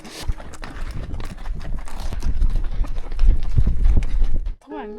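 Horses on a trail ride in northern Argentina clip-clop along in a rapid, uneven patter of hooves, close by, while people talk over them.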